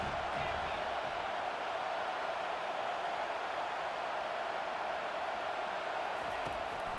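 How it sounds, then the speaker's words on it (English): A football game crowd roars in a continuous, broad wash of noise at moderate distance, steady and unbroken, no distinct voices. "The roar of the crowd trying to fuel this defense to keep them pinned in their own end"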